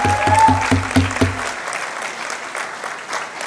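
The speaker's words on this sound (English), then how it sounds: "I want a louder round of applause" At a university convocation ceremony, the audience applauds steadily under a fading musical chord. The clapping continues at moderate loudness after the music stops, and no one speaks.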